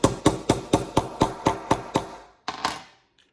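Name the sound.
hammering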